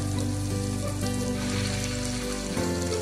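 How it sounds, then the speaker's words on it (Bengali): Chicken meatballs (kofta) fry in oil in a pan, a loud, close, continuous sizzle with bubbling crackle and no talking. "আর যতক্ষণ কোপ্তাগুলো ভাজা হচ্ছে"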